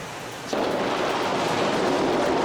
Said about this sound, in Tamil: அருவியில் ஆர்ப்பரித்து கொட்டும் தண்ணீரில் புதிய புதிய கிளை நதிகள் நீரோடைகள் உருவாகியுள்ளன